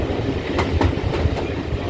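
Train on the Paignton and Dartmouth Steam Railway crossing Greenway Viaduct, a loud steady rumble with rhythmic clickety-clack wheel beats passing over rail joints.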